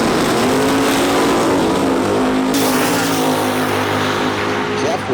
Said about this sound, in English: Randy Jewell out of Hilton, Ontario with a Mustang, 540 cubic inch, big block Chevy.